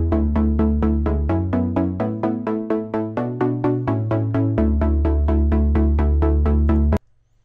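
A bright plucked synth line playing a riff, about two dozen short, evenly spaced notes over a shifting bass tone, stopping abruptly near the end.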